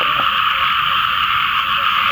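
Dense chorus of frogs croaking steadily after the first rain of the season, loud and continuous, with no voices.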